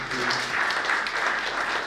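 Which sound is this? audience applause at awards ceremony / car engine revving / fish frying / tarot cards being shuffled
audience applause at awards ceremony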